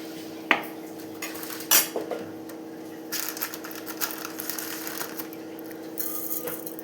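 Mustard seeds crackle in one to two tablespoons of hot oil for a sambar tempering: sparse, sharp close-up pops and clinks scattered across the stretch, with a couple of louder snaps and no voices.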